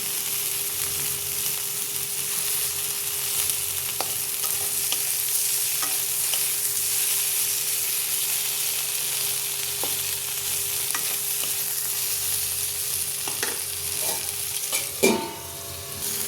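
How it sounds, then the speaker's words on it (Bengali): Tomato with a pinch of turmeric fries in a pan with a continuous, even sizzle over a faint hum. Occasional stirring clicks break through, and a louder scrape comes near the end. "এইখানে এক চুটকি হলুদ টমেটো যতক্ষণ না গলছে ভেজে নেবো"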